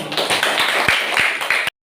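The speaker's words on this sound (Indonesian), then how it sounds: "Tepuk tangan." Pupils in a fifth-grade Islamic religious education class at an Indonesian primary school clap together, a close, lively burst of many hands with a few sharp accented beats, stopping abruptly after under two seconds.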